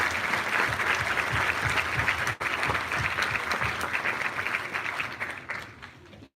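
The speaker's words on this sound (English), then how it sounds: "Let's give these guys a round of applause." An audience applauds steadily at a high school underclassmen awards ceremony in Urbana, Ohio, a dense wash of clapping from many hands that holds for several seconds, briefly dips, then fades out.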